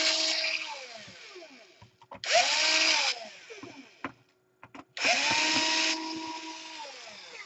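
A power screwdriver backs screws out of a Sony Vaio VGN-NW350F laptop in three whirring bursts, each whine rising then settling, with small clicks and handling noise between, close up.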